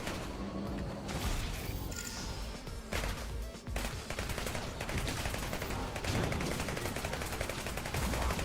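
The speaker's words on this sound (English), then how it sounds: "Let's chill here, shoot them dead." Dense rapid gunfire and explosive bursts from a first-person shooter game, loud and continuous, with crashing impacts layered throughout and no talk.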